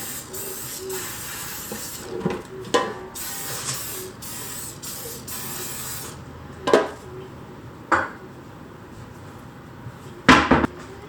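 A spray bottle spritzes sourdough bread dough several times, short hissing bursts spaced apart over a faint background hum, with a few soft handling knocks.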